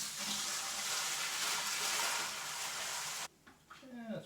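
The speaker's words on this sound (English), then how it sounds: "So now I'm going to put my clean water in here." Clean water pours steadily into a wet tumbler drum for cleaning brass, a close continuous rushing splash that stops abruptly, followed by a moment of speech.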